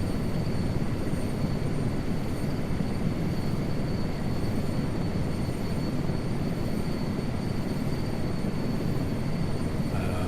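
A helicopter engine in Microsoft Flight Simulator 2024 drones with a constant broadband roar and a steady high whine, loud and unbroken throughout.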